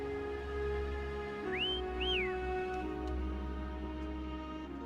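A video game character whistles twice, first a quick rising swoop and then a rise-and-fall call, clear over steady background game music and ambience.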